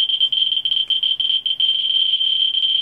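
A Ludlum Model 3 radiation survey meter held close to a depleted uranium specimen gives off a dense, near-continuous high-pitched chatter of clicks, loud and close with brief stutters.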